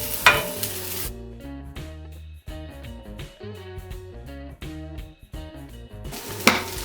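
Peppers tumble into a frying pan with onions, setting off a brief sizzle up front; then a stretch of pan clatter and stirring runs under steady background sound, and a fresh sizzle flares near the end.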